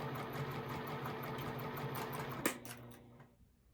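A sewing machine joins rows of quilt blocks with a continuous, close, even hum. It ends in a clunk as it stops, leaving faint room noise.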